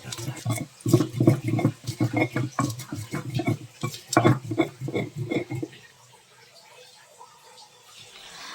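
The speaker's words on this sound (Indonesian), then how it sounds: "Nah ini diulek dulu." Pounding and grinding oncom sambal in a stone mortar with a pestle (ulek), a rapid series of loud, close knocking and scraping strokes that stop abruptly, leaving a quiet room.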